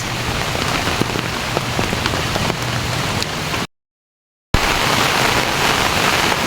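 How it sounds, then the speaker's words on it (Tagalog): Steady rain falls across open farm countryside during a mushroom-gathering walk, a dense continuous hiss with scattered drop taps, broken by one brief silent gap before resuming at the same loud level. "Ayan guys, naulan. Maulan din sa bukid."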